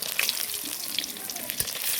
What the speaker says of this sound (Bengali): ডিমগুলো একটু কড়া করে ভেজে নিতে হয়